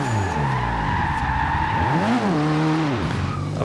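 A car slides sideways in Forza Horizon 2 with a steady loud tire squeal over a droning engine whose pitch climbs and falls as the throttle is blipped mid-drift.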